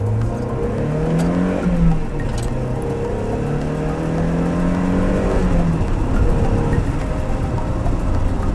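Manual Mazda Miata convertible accelerating on the road, a steady loud engine drone with rising and falling pitch through gear changes, plus wind and road noise.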